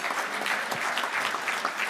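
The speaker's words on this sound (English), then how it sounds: "Give him another round of applause." A crowd applauds steadily at a youth sports volunteer recognition event, a dense wash of many hands clapping at once, fairly loud and close, with no voices over it.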